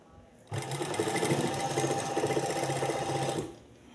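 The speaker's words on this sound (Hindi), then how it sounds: "बिल्कुल किनारे किनारे पे मैं सिलाई चला दूँगी जॉइंट लेस के इस तरह से" A sewing machine stitches along the edge of joined lace on a sleeve, one steady, rapid run of needle chatter lasting about three seconds, close and fairly loud, with a voice faintly underneath.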